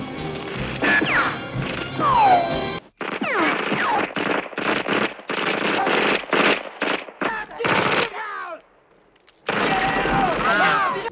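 Bursts of rapid gunfire crack out in quick succession, loud and close, with brief pauses between volleys and a short lull near the end.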